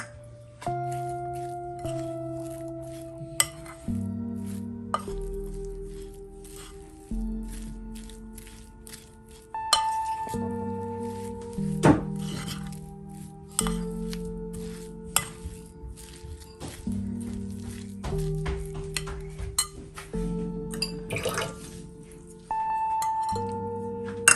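Fish is mixed by hand in a bowl for fish pakora, with repeated soft squishes and occasional clinks against the bowl, quiet and close. Short tonal sounds recur throughout, and no one speaks.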